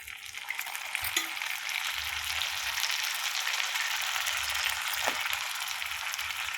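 Potatoes and frozen carrots fry together in a pan while a paneer biryani is being made, with a constant hiss of sizzling oil close by and a few faint knocks of stirring underneath.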